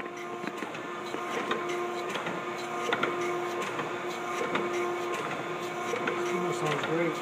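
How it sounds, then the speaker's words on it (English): An Okamoto 12x24 surface grinder runs its spindle with a steady tonal mechanical hum and faint rhythmic ticking, heard fairly quietly at close range with voices in the background. "Spindle sounds great, can you hear it?"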